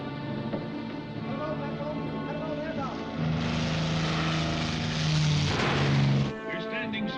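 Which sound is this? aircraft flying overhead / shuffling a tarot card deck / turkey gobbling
aircraft flying overhead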